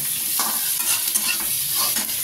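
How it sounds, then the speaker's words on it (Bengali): Vegetables fry in butter on high flame for white sauce pasta, giving a constant close sizzle with stirring scrapes and no voices. "ওগুলো আবার বাটারে একটু ভেজে নেব"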